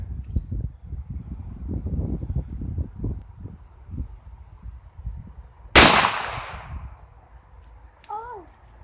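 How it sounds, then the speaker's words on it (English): A single sharp gunshot from a .357 Magnum revolver loaded with .38 cartridges cracks out loud and close, trailing off over a second, after muffled wind and handling noise outdoors. "shooting a 357 Magnum, but we have 38 plus piece cartridges in it"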